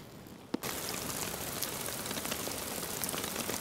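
Steady rain pours down on a camp in Fiordland, New Zealand, during a wapiti hunting trip, a dense continuous hiss that starts after a brief quiet moment and a single sharp tap, holding at an even level with no talking.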